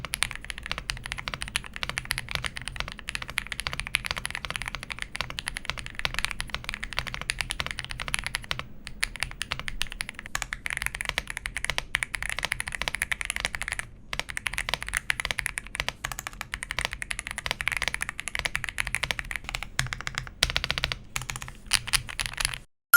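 Rapid typing on a budget mechanical keyboard, a dense stream of close, crisp key clicks and clacks with brief pauses between bursts, steady throughout and free of talk.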